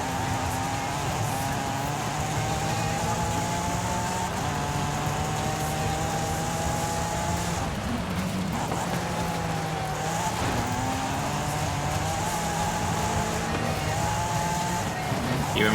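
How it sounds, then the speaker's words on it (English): An Audi RS5 engine in the racing game Forza Horizon 5 drones steadily throughout, rising and falling through revs with bursts of tire squeal, loud and continuous. "I feel like I remember like this car sounding better."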